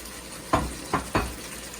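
Tomato goes into a pan of frying Singapore devils curry, making three quick sizzling bursts against a steady low background hiss, close and fairly loud.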